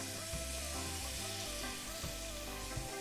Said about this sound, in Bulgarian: Време е да сложа и пресния лук.